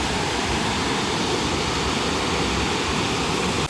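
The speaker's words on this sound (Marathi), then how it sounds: "अप्रतिम असा धबधबा या डोंगरातून" The Dhutpapeshwar waterfall pours down the mountainside in a steady, dense roar, loud and close, with no pauses and no voices over the rushing water.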